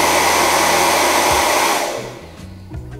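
A traditional hair dryer blows with a loud, steady broadband whoosh for about two seconds, then cuts off, leaving faint handling knocks.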